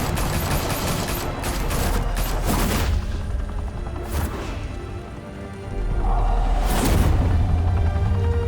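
Gunfire in Batman: The Telltale Series, with bursts of rapid shots and crashing impacts that come in several clustered volleys over a busy action soundscape, loud and close.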